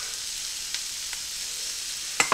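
Peppers and onions seasoned with salt and pepper sizzle steadily in a pan, a close, even frying hiss with a couple of sharp utensil clinks near the end.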